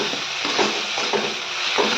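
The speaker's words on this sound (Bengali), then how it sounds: "চিনি দিয়ে দেবো, দিয়ে ভালো করে কষাবো জিনিসটাকে।" Pointed gourd curry with sugar sautéing in a pan, a steady sizzle with a spoon stirring and scraping at intervals, close and fairly loud, no voices.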